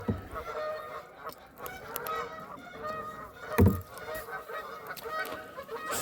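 Geese honk repeatedly in a noisy outdoor chorus beside the St. Croix River, with one louder, nearer honk standing out midway.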